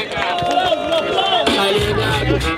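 Loud crowd noise at a street rap battle in São Gonçalo, a dense swell of cheering, whooping and hubbub filling the whole short stretch, close and continuous.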